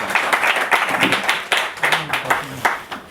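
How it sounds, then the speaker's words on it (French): Clapping from a general assembly audience: bursts of hand claps rising and falling in waves, fairly close and moderately loud, with a few voices faintly underneath. "On peut applaudir, s'il vous plaît."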